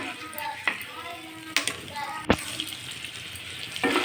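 Eggs fry in hot oil with a soft, steady sizzle, broken by a few sharp clicks and pops from the pan, heard up close with a voice talking over it.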